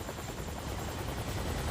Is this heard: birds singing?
no